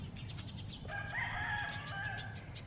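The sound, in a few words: rooster crowing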